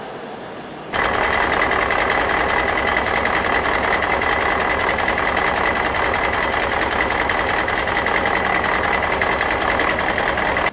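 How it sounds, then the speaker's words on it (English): A purple truck rumbles past close by, its engine drone starting abruptly and holding loud and steady for about ten seconds, with no talking. "Watch out for this purple truck."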